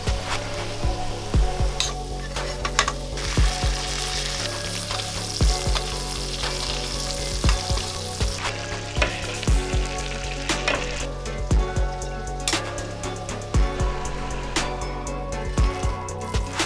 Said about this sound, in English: add your French fries back into the oil at a higher temperature to fry them